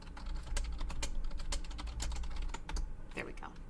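Rapid clacking of a computer keyboard as code is typed, irregular bursts of close, crisp keystrokes with faint background hum.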